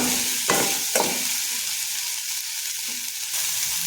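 Okra and egg stir-fry sizzles steadily in a pan over a low flame, a close, continuous hiss broken by a few brief scraping stirs.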